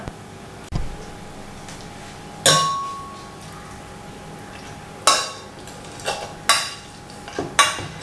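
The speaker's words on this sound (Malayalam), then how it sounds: "മാഷ് ചെയ്ത് പേസ്റ്റ് മാതിരി എടുക്കാൻ പോവാണ്" Spoon mashing cooked oats into a thick paste for spicy oats kanji, heard as a few sharp clinks of metal against the pot spaced over several seconds with quiet pauses between, close and fairly clear.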